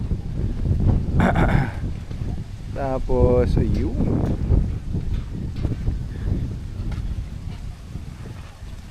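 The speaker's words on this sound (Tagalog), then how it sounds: "Dito yung bayo ng hangin, kitang kita mo talaga." Strong wind gusts buffet a hilltop campsite at Splendor Hills in Tanauan, Batangas, a loud, rough, continuous roar against the microphone with brief voices talking over it.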